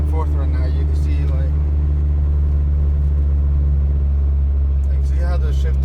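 A car with a manual transmission cruises in fourth gear, its engine droning steadily with a strong low hum throughout, while a person talks over it.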